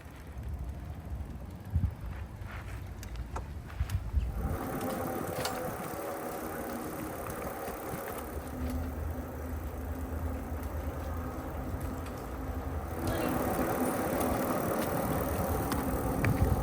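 An Aipas M1 Pro e-bike pulls a dog in a trailer along the road, giving a steady rolling hum with wind rush and light rattling throughout, with no talking.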